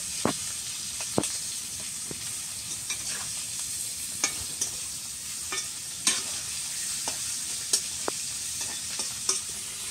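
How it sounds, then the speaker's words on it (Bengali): Prawns lightly frying in a pan make a steady close sizzle and hiss throughout, with scattered sharp pops and spatters breaking through at irregular moments. "চিংড়ি মাছগুলোকে ভেজে নিচ্ছি, হালকা ভাজবো"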